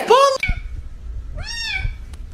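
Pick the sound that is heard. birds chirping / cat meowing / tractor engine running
cat meowing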